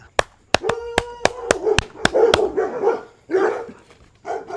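Several puppies bark in sharp, close bursts, with yips and whimpering mixed in and a person talking between barks.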